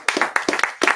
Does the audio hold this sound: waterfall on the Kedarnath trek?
no